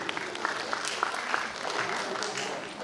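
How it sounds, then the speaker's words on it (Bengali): Loud applause from an audience at an annual event in Rabindra Bhavan, a dense, sustained clatter of many hands with a few scattered louder claps, and faint voices mixed in. "তাই আমরা আমাদের জন্য একটা জোরে করতালি দিয়ে অনুষ্ঠানে শুরু করি।"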